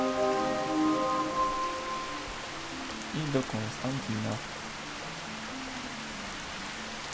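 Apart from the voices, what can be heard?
rain falling in Gothic 2 video game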